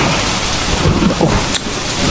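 Heavy downpour with rolling thunder, a dense, loud, continuous roar of rain on surfaces close by with low rumbles underneath, no voices.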